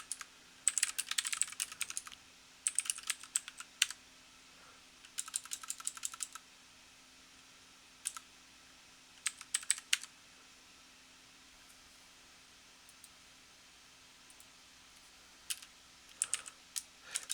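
Fingers type on a computer keyboard in short clustered bursts of crisp key clicks separated by quiet pauses, close and fairly soft, with no voices.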